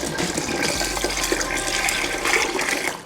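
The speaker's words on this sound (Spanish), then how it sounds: "We're gonna add 25 ounces of water." Water for Panamanian chicheme pours steadily into a container, a loud, close, continuous splashing rush that lasts about three seconds without talk.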